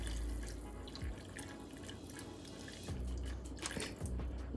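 Two cups of water go into a pot of pumpkin and roasted cauliflower soup, making splashy pouring and dripping sounds in a few uneven bursts, close and fairly quiet, with no voices.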